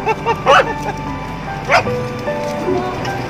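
A dog barks twice, the two loud yaps about a second apart, close by, over a busy background with people talking.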